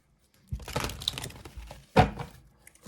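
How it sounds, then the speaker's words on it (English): Oracle cards being shuffled by hand, two brisk bursts of rustling, slapping card noise, the second a sharper riffle, with quiet pauses around them and no talking. "Okay, last shuffle."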